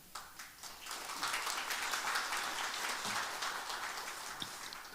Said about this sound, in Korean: 우리 박장신 목사님 나오실 때 환영의 박수로 크게 환영을 해주시면 감사하겠습니다